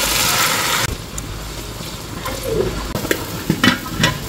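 Beef sizzling in a pan after a marinade of calamansi, soy sauce and oyster sauce, a loud hiss at first that settles into softer frying with scattered pops and the clink of stirring.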